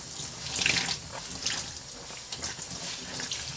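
Tap water runs steadily into a sink while a Cabbage Patch Kid doll is rinsed under it, a soft, fairly quiet splashing hiss with small gurgles and no talking.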